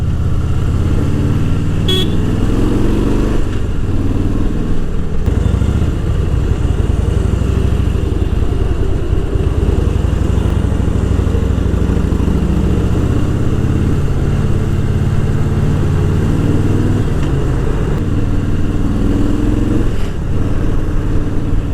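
A large motorcycle engine runs steadily at a low, throbbing idle around 2400 RPM while riding on the road, loud and close, with a constant deep rumble throughout.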